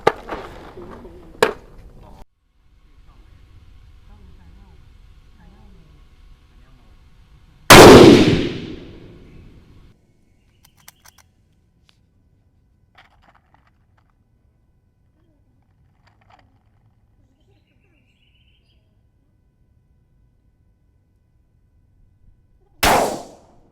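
Two sharp, loud Ruger RPR .308 rifle shots at a shooting range, one around the middle and one at the very end, with quiet stretches and faint background noise between them.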